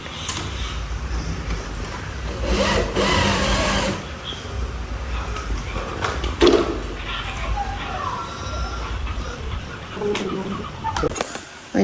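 A domestic sewing machine stitches a garment at home in bursts of whirring with pauses, partly under household noise and a talking voice.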